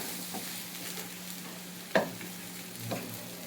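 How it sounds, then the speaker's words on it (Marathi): A spoon stirs sabudana khichdi in a pan over a faint, low sizzle. One sharp scrape or clink stands out, followed later by a softer one, and no one speaks. "एकदा ढवळून घेऊया"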